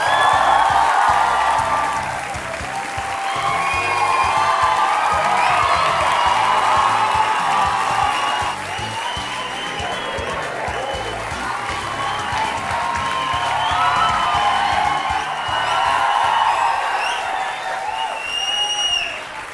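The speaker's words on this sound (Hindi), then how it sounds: "और ये तालियां बजते रहें" A studio audience applauds and cheers for cricketer Rishabh Pant at a televised courtroom-style talk show. Dense, sustained clapping with occasional whoops carries on loudly for nearly twenty seconds without pause.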